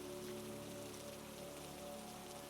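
Steady rain falls on a surface around a mountain cabin in the evening, a dense, even patter of drops that is soft and continuous, with no voices.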